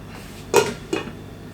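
A metal lid set back onto a pot of simmering chicken curry gives two quick clanks about a third of a second apart, close and fairly soft.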